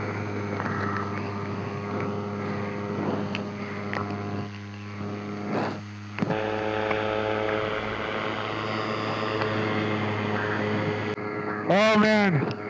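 Electric paramotor with a speed wing in flight, a loud steady propeller drone with strong tonal hum throughout and a brief wavering pitch sweep near the end; a voice talks over it.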